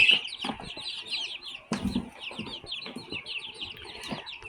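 Several chickens cluck and chatter steadily at close range, with soft rustling and scratching underneath.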